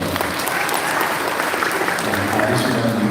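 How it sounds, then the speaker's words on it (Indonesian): Sustained applause from a large seated audience at a university welcome event for the foundation chairman, a dense continuous patter of many hands at steady volume with no voices over it. "Tepuk tangan untuk beliau."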